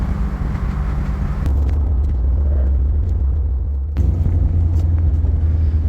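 A car cruises on a freeway on its way to an autocross track, with a loud, steady low road and engine rumble heard from inside the cabin and a brief shift in tone partway through.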